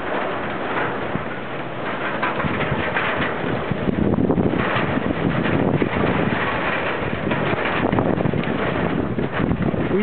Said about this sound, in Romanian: Incredibil cât de vânt, cât de puternic e vântul.